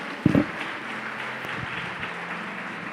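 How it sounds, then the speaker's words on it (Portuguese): A church congregation claps at a worship service, a dense, steady wash of hands lasting throughout, with a brief louder burst near the start and low murmuring underneath. "aplauda o nome do Senhor"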